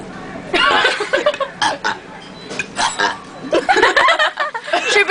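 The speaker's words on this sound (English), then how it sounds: "How do you burp so much?" Loud close burps from a person come in a rapid series of throaty bursts, interspersed with chuckling and laughter, with no other talk over them.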